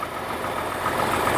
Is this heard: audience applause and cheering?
no